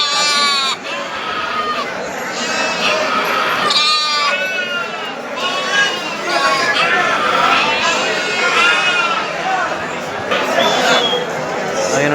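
Bannur lambs bleating nonstop on a sheep farm in Mandya, several young animals calling over one another, close and loud, with people chattering in the background.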